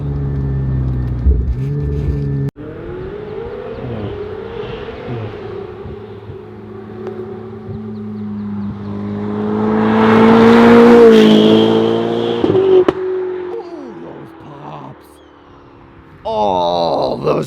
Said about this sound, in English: those just sound so good. That twin turbo V8, you can never go wrong